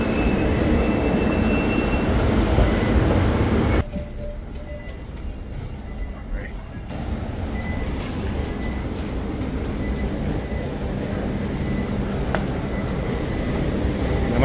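A metro train running along the line, a loud steady rumble of wheels and car noise that dips briefly in tone, then resumes with occasional faint squeals; no clear talk.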